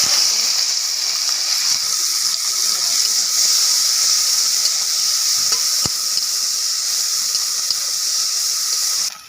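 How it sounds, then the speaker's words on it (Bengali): River prawns fry in hot oil with a steady, loud, continuous sizzle and hiss lasting throughout, a faint tap or two of a utensil near the middle, no voices. "মাছগুলো ভেজে নিচ্ছি, দিয়ে দিচ্ছি"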